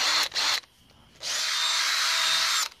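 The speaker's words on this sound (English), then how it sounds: "But I had to get my drill off the porch." Power drill running in two short bursts, then one long steady whir of about a second and a half, loud and close with no talk over it.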